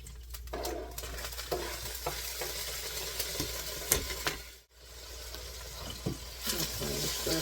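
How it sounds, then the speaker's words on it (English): Onions sizzle in a skillet while being stirred, a continuous close frying hiss punctuated by scraping utensil strokes, with a brief lull near the middle before the sizzle returns. "let's stir the onions around, get them going."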